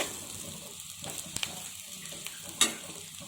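Bitter gourd pieces dropped into a pan with fried onions, giving a low, quiet sizzle under occasional scrapes and taps of a spoon stirring, with one sharper clack near the end.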